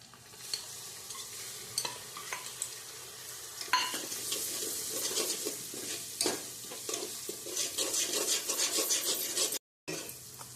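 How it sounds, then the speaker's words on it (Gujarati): Ginger, chilli and garlic masala fries in hot oil for a fenugreek greens and aubegine curry, a dense, continuous crackle and sizzle with repeated stirring scrapes that thicken toward the end, broken by one brief gap. "હવે જો આપણો મસાલો કકડી ગયો છે અને હવે આપણે આ મસાલાને પકડાવી નાખવાનો"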